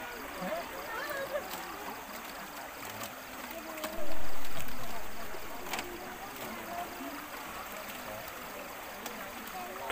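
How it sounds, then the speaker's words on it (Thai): Fast-flowing river water rushes steadily at a temple festival of floating lanterns and illuminated boats, a broad constant wash close by, with a louder surge midway and talk over it. "น้ำไหลแรงมากเลยค่ะไปอย่างเร็ว"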